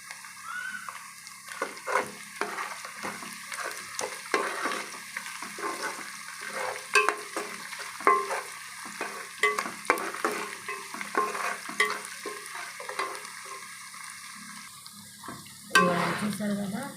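Sliced bitter gourd fries with salt and turmeric in a pan, a soft steady sizzle broken by repeated scraping stirs of a spoon or spatula, close and clear throughout.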